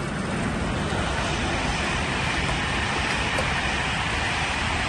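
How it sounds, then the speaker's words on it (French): A train rolls past in a noisy rail setting, a steady, loud rumbling roar that holds evenly across the whole stretch with no pauses. "On va juste attendre que le train passe."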